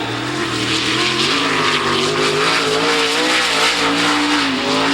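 A sprint car on a qualifying lap at Kankakee in 2007 roars past loud and close, its engine note climbing and wavering as it passes, with no talk.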